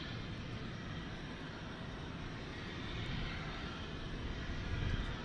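A Finnair airliner passes at Dallas Fort Worth airport with a steady, broad jet roar that swells slightly toward the end. It sounds fairly distant and continuous, and no voices are heard.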